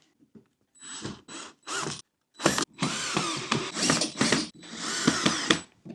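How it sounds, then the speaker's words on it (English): Power driver tightening screws while assembling a fluted mid-century modern sideboard buffet cabinet, several loud close whirring bursts of varying length separated by brief pauses. "With the screw, place in carefully, align each hole, lock down one at a time."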